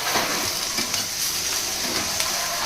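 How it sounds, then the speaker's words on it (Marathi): Ghevda beans roast in an iron kadhai over a low flame, Maharashtrian style, giving a steady soft sizzle with faint stirring scrapes throughout, close by and with no talk. "पटपट आपल्याला मंद गॅसवर, कमी गॅसवरती भाजून घ्यायचे आहे"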